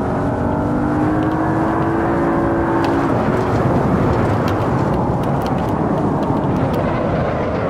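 In Assetto Corsa, an all-wheel-drive Audi RS6 engine drones loud and steady at high revs, with a rising whine early on and constant road roar, no talk over it.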